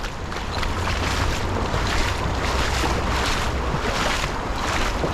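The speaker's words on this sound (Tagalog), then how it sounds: "Grabe lakas ng agos dyan oh." A strong river current rushes past in a steady, loud wash of turbulent water, with wind buffeting the microphone, continuous for the whole stretch.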